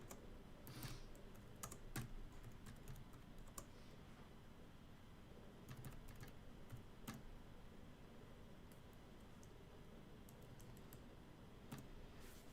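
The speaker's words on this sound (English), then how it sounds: "I'm almost done typing it, and then I'm going to double check it" Keystrokes on a computer keyboard, typed while setting up an Ethereum staking node on Xubuntu, come as faint, sparse clicks and short runs over a steady hiss.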